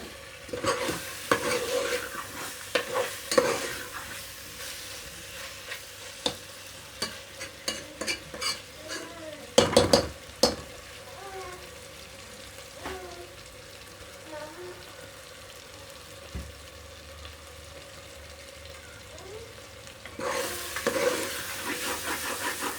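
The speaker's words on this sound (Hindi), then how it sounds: "इसको थोड़ा सा भूनेंगे" Chicken karela masala is stirred and fried in a pan: a steady sizzle under irregular scraping spoon strokes, with louder bursts of stirring now and then.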